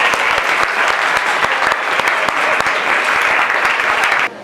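A crowd applauds a guest speaker, a geologist, at a talk on Bogotá's climatic and geological history: dense, loud, continuous clapping with sharp individual claps standing out, cutting off abruptly near the end.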